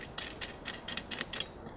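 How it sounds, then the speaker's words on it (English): Coupling nut being threaded onto a bolt of a Granberg Alaskan chainsaw mill, giving a quick series of light metallic ratcheting clicks in a steady rhythm, close and fairly quiet. "and then we're going to put the coupling nut on top of that."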